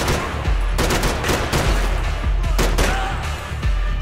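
Small handgun firing in Max Payne 3, a run of sharp, loud shots at irregular intervals over a constant low rumble of game ambience, with a few quick pairs.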